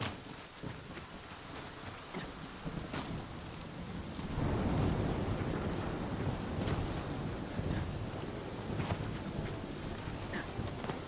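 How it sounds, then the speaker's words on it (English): Video game rain pours steadily while a low rumble of thunder swells midway, with scattered drips and a faint wind beneath. "And it's raining."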